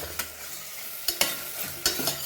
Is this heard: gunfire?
no